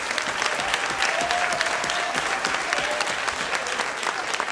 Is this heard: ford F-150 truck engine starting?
no